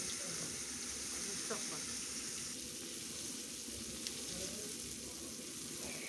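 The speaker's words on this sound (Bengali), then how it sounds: "একটু নুন আর একটু হলুদ দিয়ে উচ্ছেটা বেশ ভালো করে ভেজে নিচ্ছি।" Bitter gourd pieces fry with salt and turmeric in the oil left in the pan after frying a fish head, making a quiet, even crackle and hiss that holds steady throughout.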